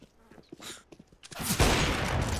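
Gunfire in Counter-Strike: Global Offensive starts with a few light, scattered sounds, then breaks into a loud, sustained burst of rapid shots that fills the rest of the moment.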